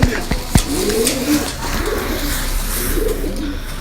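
Sialkoti pigeons coo in a loft, a few soft, rolling calls close by, with a couple of sharp knocks and some background noise.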